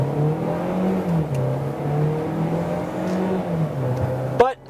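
Engine note of a 2017 Hyundai Tucson with a 7-speed dual-clutch automatic pulling away, a steady mid-pitched drone with gentle rises, close and continuous, ending in a brief knock.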